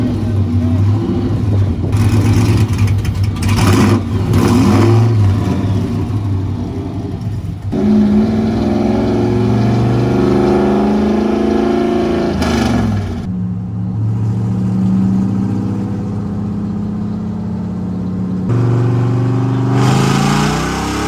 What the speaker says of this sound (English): Not too bad for a stock LS2 with a supercharger